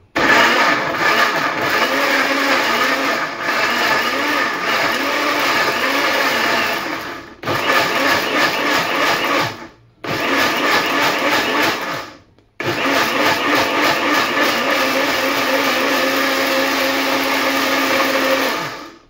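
An electric blender grinds chillies in a home kitchen, roaring loudly and steadily up close in three long runs separated by short pauses and abrupt stops, with no talking.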